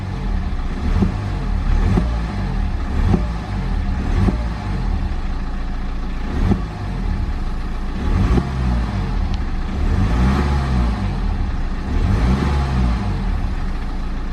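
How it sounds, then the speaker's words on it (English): A BMW N47 diesel engine, freshly fitted with a reinforced intake manifold, revs repeatedly in a steady rhythm of swelling and falling rumbles, loud and close throughout with no talking. "I guess we'll go ahead and give it a rev."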